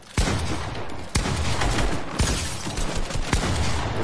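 Dense, continuous gunfire from a Fortnite creative-mode buildfight, with rapid overlapping shots and sharp impacts, loud and close throughout.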